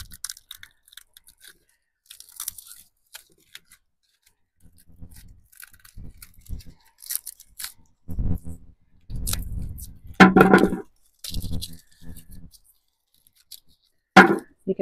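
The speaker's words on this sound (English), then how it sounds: "now we're just going to rip open one of these bigger bulbs here" Hardneck garlic bulb torn open by hand to separate the cloves, giving dry crackling and papery crunching in short bursts at close range, with a few louder snaps toward the end.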